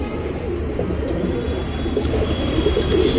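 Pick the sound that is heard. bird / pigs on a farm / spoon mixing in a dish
bird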